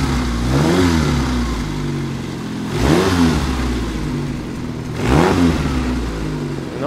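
A petrol engine on a homemade cogeneration generator unit is revved three times in succession, each burst swelling in pitch and loudness then settling back to a rough idle, close and loud.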